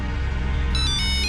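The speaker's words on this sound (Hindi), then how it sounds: "अब किसका फोन आ गया?" A telephone rings in a home with a high electronic warbling tone that starts partway through over a low steady hum, repeating in a quick pulsing pattern.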